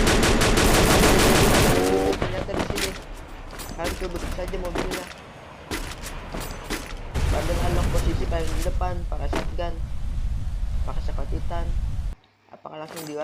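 Rapid bursts of gunfire from a battle royale video game match, dense cracking shots repeating under fast excited commentary from a caster, with a brief drop-out near the end.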